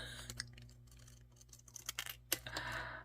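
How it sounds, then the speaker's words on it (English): Scissors cut paper held in the left hand, giving soft, close snips and crisp paper rustles in a faint, irregular sequence, with one sharper snip near the end. "trying my best to cut left-handed"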